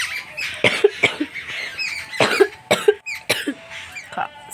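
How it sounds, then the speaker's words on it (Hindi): A little girl coughs repeatedly, in short harsh bursts spaced every second or so, close and fairly loud, with some throat-clearing and no talk. "खांसी बहुत आ रहा है दोस्तों"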